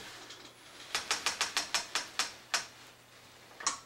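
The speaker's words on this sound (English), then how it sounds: "I have my needle down so I can advance the quilt." A quilting sewing machine stitches with its needle down while advancing a quilt, giving a quick, evenly spaced run of about eight sharp clicks, followed by one more click and a final isolated one after a short pause.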